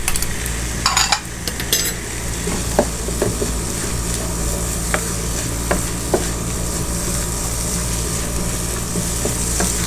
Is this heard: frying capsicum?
yes